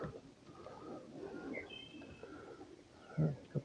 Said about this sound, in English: A couple of birds.